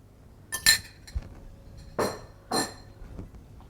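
Eggs cracked and dropped into a bowl of snoek fish cake mixture, giving a few sharp clinks of shell on bowl rim followed by soft wet thuds, close and spaced apart with no talking.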